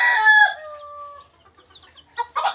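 Fayoumi chicks chirping and clucking close by, a sustained high call that trails off into scattered peeps, then a short burst of louder chatter at the end.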